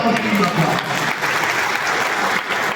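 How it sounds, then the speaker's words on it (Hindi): Loud crowd applause at a teachers' association event held at an inter college, sustained clapping from a large audience with faint voices mixed in. "और मैं चाहूंगा भाई हाथ बाहर निकाल के एक बार जोरदार तालियों के साथ"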